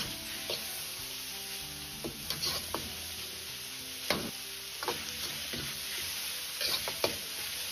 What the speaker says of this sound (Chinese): 保持中火翻炒大概40秒钟左右，炒出香干表面多余的水分